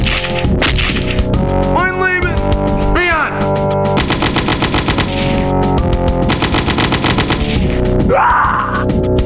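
Gunfire from the Doom double-barrel shotgun blasts loud and close amid constant game action, with rapid, fast-repeating shots, whooshing sweeps and clanking impacts under layered music.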